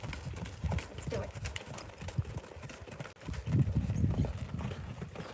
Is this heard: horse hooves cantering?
yes